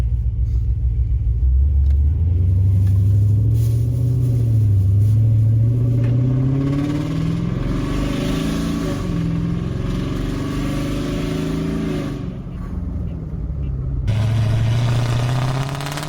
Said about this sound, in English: So this is how it sounds with the valves open.